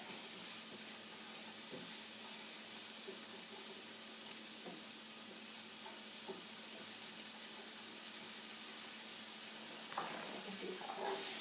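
Diced potatoes, onions and garlic for a veggie hash fry in a pan, a constant close sizzle and hiss with occasional soft knocks and scrapes from stirring, no voices over it.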